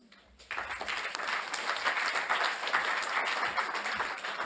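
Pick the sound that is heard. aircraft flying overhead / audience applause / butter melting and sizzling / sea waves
audience applause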